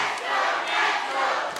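Wrestling arena crowd chanting in unison as Roy Knight comes out for a tag match, a loud, dense roar of many voices swelling and holding steady across the whole stretch.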